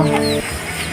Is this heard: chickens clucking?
yes